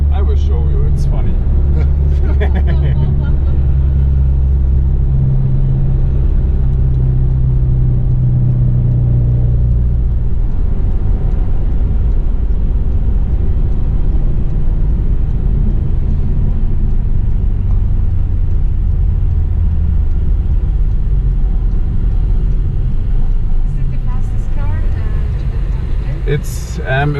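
A Tesla passenger car makes a race start at a test centre, a loud, low rumble of road and motor noise that swells and holds steady throughout while people talk over it.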